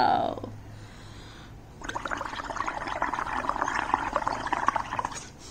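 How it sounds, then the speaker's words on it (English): Air blown through a straw bubbles into liquid paint for bubble painting, a brief gurgle at first, then a long steady burbling bubbling that rises and stays busy. "Let the bubbles come out"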